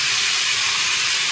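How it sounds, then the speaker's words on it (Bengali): Pieces of taro dropped into hot oil left over from frying fish, a loud, even hiss of sizzling oil running throughout the brief moment, close up and with no talking. "এবারে এই তেলের মধ্যে কচুটা দিয়ে দেবো"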